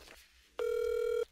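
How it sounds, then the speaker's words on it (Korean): An outgoing telephone call rings once: a single steady, loud electronic tone lasting about half a second after a quiet start, with no voices. "쌈디 형에게 전화를 한번 걸어보도록 하겠습니다."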